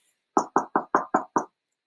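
Six crisp knocks on a door come in a quick, even series, close and clear with silence around them and no voices.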